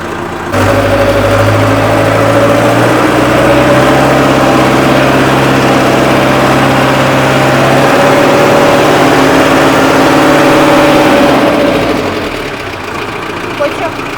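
A LOVOL 404-III tractor engine runs loudly and steadily with a deep, throbbing drone while driving, close by for most of the stretch before easing off near the end, with voices talking over it.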